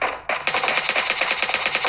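Rapid bursts of automatic gunfire in PUBG Mobile rattle in a fast, steady rhythm after a couple of opening shots.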